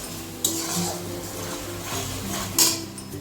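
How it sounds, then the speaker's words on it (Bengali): Spice paste with cumin powder and a splash of water being stirred in a pan for doi katla, the fish curry, with soft scraping and stirring, a couple of clinks against the pan, and a faint sizzle throughout. "জল দিয়ে ভালো করে মশলাটাকে কষিয়ে দিব।"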